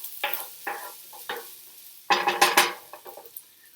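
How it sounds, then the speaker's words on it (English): A veggie bolognese is stirred in a pan, making several separate scraping strokes of a spoon against the pan over a faint simmer, followed by a louder burst of clattering scrapes, with no voices. "Remember to keep stirring."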